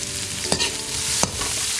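Chopped onions, four of them, frying for a pepper mutton curry, with a steady close sizzle and two sharp stirring scrapes of the spoon against the pan partway through.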